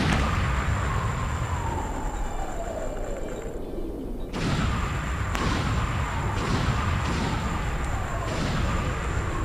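A video game boss explosion as a train is destroyed: a string of loud, repeated explosion blasts with a descending whine, booming one after another in a continuous roaring barrage.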